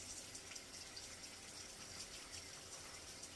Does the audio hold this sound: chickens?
no